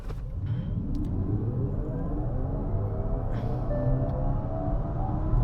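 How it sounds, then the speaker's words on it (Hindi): A Kia EV6 electric car in sport mode accelerates hard from 0 to 100 on a track, its steady motor whine climbing in pitch over a continuous road rumble for about five seconds, with no talking. "मैं जो है 0 to 100 यहाँ पे कर लेता हूँ। स्पोर्ट मोड में हम हैं"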